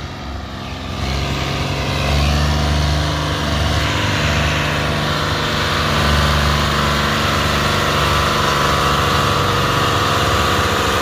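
A tractor hauling a trolley loaded with sugarcane crosses a canal bridge, its engine droning loud and steady with a low, throbbing hum that swells slightly midway and carries on without a break.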